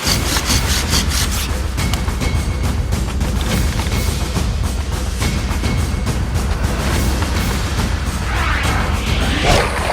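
A bow drill friction fire with a Moreton Bay fig spindle grinds into the fireboard in rapid back-and-forth sawing strokes, loud, close and continuous with a rough woody scrape throughout.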